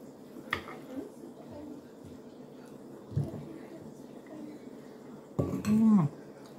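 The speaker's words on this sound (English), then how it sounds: "Gotta cut a steak smaller." Knife and fork cut a baked lamb steak on a plate, with a few sharp clinks and scrapes spaced apart and a louder scraping clatter near the end over quiet room tone.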